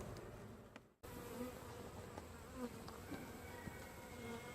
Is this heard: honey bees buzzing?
yes